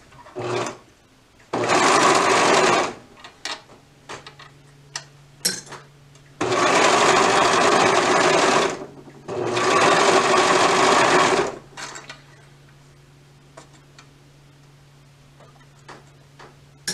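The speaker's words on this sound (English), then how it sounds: "Now we're ready to stitch our sleeves to our bodice. Again, I'm going to serge them." A serger overlock machine stitches sweater sleeves onto a bodice in three loud, steady whirring runs of a few seconds each, with soft handling clicks and a low hum in the pauses between.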